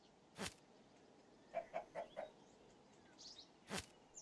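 A chicken in a video game clucks four quick times in a row, soft and fairly close, between two sharp louder clicks over a quiet hum.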